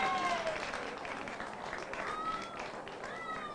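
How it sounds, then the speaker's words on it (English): Crowd applause for two contestants after a shootout at a boys' high school soccer third-place match, a continuous rush of clapping in a large space with whistle-like tones and voices faintly mixed in. "Let's have a nice round of applause for these 2 contestants."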